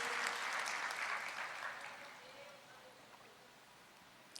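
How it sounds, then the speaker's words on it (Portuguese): A church congregation applauds steadily, the clapping loud at first and then gradually fading away over a few seconds. "Vamos aplaudir ao Senhor"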